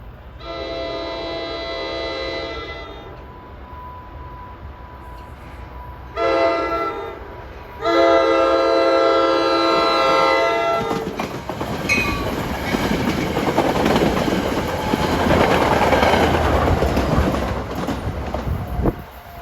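NJ Transit train 1122 on the Main-Bergen-Port Jervis line gives loud horn blasts: a long one, a short one, then another long one. A heavy rumble and clickety-clack follow as it rolls past.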